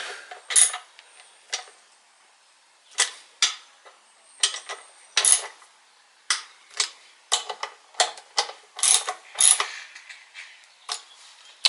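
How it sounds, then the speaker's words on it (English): Ratchet clicking as bolts are tightened on a Honda CBR/VFR800 hybrid motorcycle frame, with repeated short bursts of sharp ticks, close and fairly loud, separated by brief pauses. "Let's go ahead and tighten it down."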